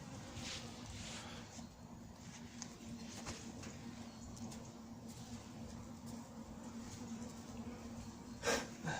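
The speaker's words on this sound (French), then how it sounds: "Tiens, un frelon qui est en train de s'échapper." A hornet buzzes steadily around a beehive at an apiary, with bees coming and going; a continuous low insect drone fills the whole stretch, close and moderately loud, with a few brief noises near the end.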